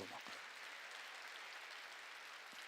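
A church congregation at a worship service claps together in a steady, continuous wash of applause that sounds distant and faint, with no voices standing out.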